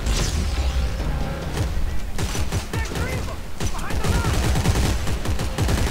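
Gunfire from the co-op shooter video game Dead Space 3 rattles in dense, overlapping bursts with booming impacts and mechanical clatter, loud and continuous throughout.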